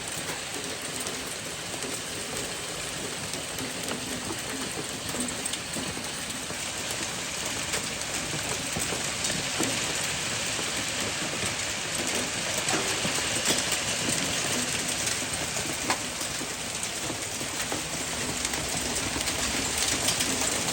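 Rain and hail pound down steadily over a giant pumpkin patch on a June evening. The hiss is dense and unbroken, with scattered sharper ticks throughout and no talking.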